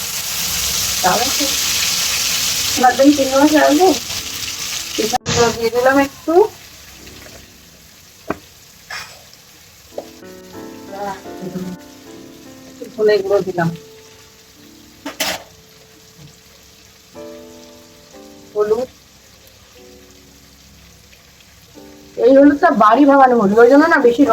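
Prawns frying in a pan at home, an intermittent sizzle that swells loudly at the start and end, with people talking over it and occasional clatter of cookware.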